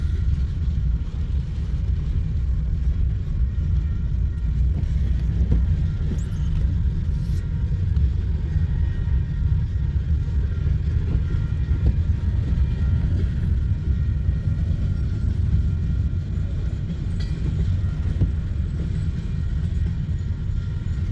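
A Conrail freight train rolls past in a continuous heavy low rumble with wheel and car noise, steady and loud throughout without letting up.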